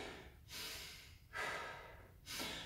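Three loud, broad breaths close to the mic after press-ups, each drawn-out exhale or inhale about half a second to a second long, spaced by short pauses during a rest in a bodyweight training session.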